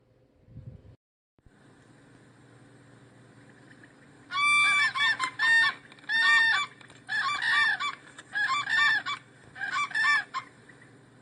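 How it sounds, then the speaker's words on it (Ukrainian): Crane calls sound as a loud series of trumpeting honks in close bursts, about six in a row, following a quiet start with a low steady hum behind them. "Журавель"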